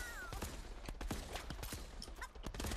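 Video game shotgun battle with a quick run of blasts in the distance, fairly faint, cracking irregularly over a few seconds alongside clattering game noise.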